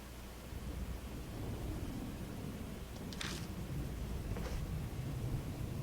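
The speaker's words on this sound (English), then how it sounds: "Thunder rumbles in the distance." Distant thunder rumbles low and steady beneath a broad hiss of rain-like noise in the horror video game Spirit Hunter: Death Mark, with a couple of faint brighter crackles partway through.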